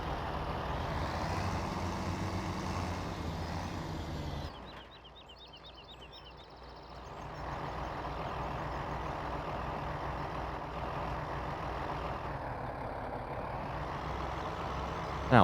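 A tractor engine in the Farming Simulator 17 game drones steadily at close range, dips briefly into a quieter idle with faint beeping, then returns to a loud, constant rumble.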